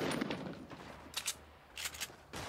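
Distant gunfire in the Fortnite video game during a Fall Skirmish match, a few brief broadband bursts and short rattling volleys spread across the moment, moderately faint with no talk over them.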